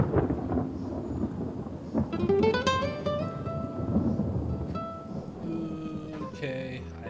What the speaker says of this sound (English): The light sprinkle of rain and the distant sound of rumbling thunder let us know